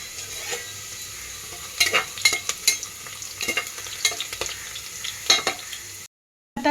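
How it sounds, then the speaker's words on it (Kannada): Chopped onion, cinnamon and cloves sizzle and fry in a pan, with a steady hiss broken by sharp scraping and stirring clatters, close and fairly loud, ending abruptly. "ಈರುಳ್ಳಿ ಕಟ್ ಮಾಡ್ಕೊಂಡಿದ್ದೀನಿ, ಚಕ್ಕೆ, ಲವಂಗ ಎಲ್ಲನೂ ಇದರಲ್ಲಿ ಹಾಕಿ ಫ್ರೈ ಮಾಡ್ಕೊತಾ ಇದ್ದೀನಿ"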